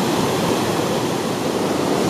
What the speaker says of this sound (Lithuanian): Čia krioklys, va taip.